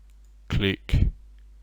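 Two sharp mouse clicks in quick succession, close and fairly loud against a quiet room, made while working with the Carver add-on in Blender.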